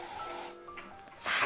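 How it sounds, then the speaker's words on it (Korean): L'Oréal hair spray sprayed onto styled, curled hair, short hissing bursts: one at the start, a softer puff midway and a stronger hiss at the end, close to the mic and moderately quiet. "그리고 한번더 로레알 스프레이 뿌려줄게요."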